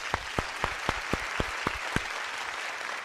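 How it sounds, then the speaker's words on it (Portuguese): An audience at a religious seminar's opening address gives steady applause, with sharp, evenly spaced claps standing out in a rhythmic beat over a dense wash of hand clapping. "Vamos ofertar uma grande salva de palmas"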